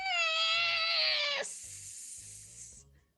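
A person imitates a cat yowl with one loud strained wail, followed by a hissing, sizzly breath, while soft low thumps sound underneath.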